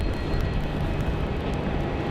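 A China Southern Airbus A350-900 arriving from Guangzhou at Melbourne Airport gives a brief, steady broadband rumble of jet noise. It is moderately loud and carries no clear rise or fall.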